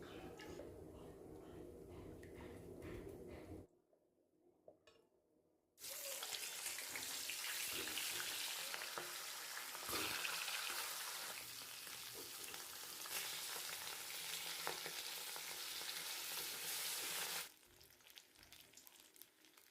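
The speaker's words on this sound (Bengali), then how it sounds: "এবার মাথাটা ভেজে নেব।" A rohu fish head coated in salt and turmeric sizzles and spatters loudly in hot oil, with a brief quiet gap before the frying surges back up and continues steadily.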